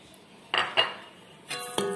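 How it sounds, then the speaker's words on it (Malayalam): Batter of rice and urad dal with ground and fried coconut, onion, curry leaves and salt is mixed in a bowl for Thrissur-style Indari appam. Four quiet, separate clinks and scrapes of a utensil against the vessel, no voices. "ആവശ്യത്തിന് ഉപ്പും ചേർത്ത് നന്നായിട്ട് മിക്സ് ചെയ്തെടുക്കുക."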